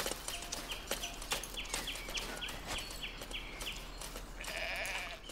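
In the Foundation medieval city-builder game, sheep bleat in a rapid series of faint, short calls over a soft ambient background, with no talking.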